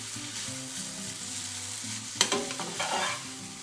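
Noodles get stirred around in a hot frying pan with a steady sizzle, then a sharp utensil knock and a few brisk scraping strokes near the end, close by with no talking.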